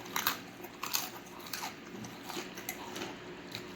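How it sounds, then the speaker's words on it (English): Crunchy Circle K fried chicken breast is bitten and chewed close up, with several sharp crackling crunches in quick succession followed by softer chewing, no talk. "Y'all hear that crunch?"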